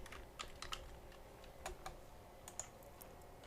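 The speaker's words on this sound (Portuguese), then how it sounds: "Vamos digitar" Quick, light keystrokes tap on a computer keyboard in a quiet room, a handful of scattered clicks in an irregular rhythm with no talking.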